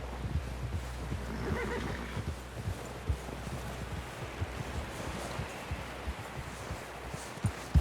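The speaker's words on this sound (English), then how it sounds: "Someone help John down off this horse." A horse whinnies once in Red Dead Redemption 2 amid shuffling hoof clops and low rumbling ambience, the sounds close and intermittent with no talking.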